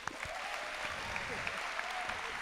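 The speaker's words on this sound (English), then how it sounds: "so just a round of applause for him, please." An audience at a college first-year assembly applauds a guitar and piano player, a steady wash of many hands clapping with a few sharper claps standing out, moderately loud and continuous.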